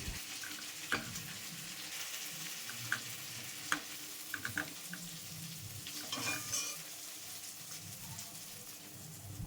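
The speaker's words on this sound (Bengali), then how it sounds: "গাঠি কচু ভাজা হয়ে গেছে, এবার তুলে নেব।" Pieces of gathi kochu (taro) frying in oil in a kadai, a soft continuous sizzle with a few light clinks and scrapes of a utensil, fairly quiet and close, no talking.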